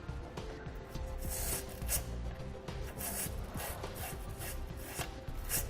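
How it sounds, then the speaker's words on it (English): Rapid scratchy scrubbing of a tube brush cleaning dirt, salt and grime from trailer hitch bolt holes on a 2015 Toyota RAV4, close and continuous with rhythmic rasping strokes and no talking. "Just kind of work it in there to try to break any dirt or salt or grime"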